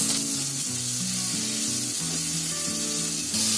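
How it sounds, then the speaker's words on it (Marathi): Onions fry in a pan for a radish and black-eyed pea dish, giving a steady, close sizzle throughout, with a melodic tonal sound running underneath. "आता कांद्यामध्येच आहे ना ते पहिले फ्राय करून घेते."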